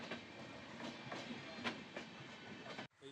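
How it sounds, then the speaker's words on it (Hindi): A passenger train runs on the Gorakhpur–Narkatiaganj line, its wheels giving a steady rhythmic clickety-clack over rail joints at moderate distance before the sound cuts off abruptly. "सवारी गाड़ी गोरखपुर से चलकर बगहा पहुंची"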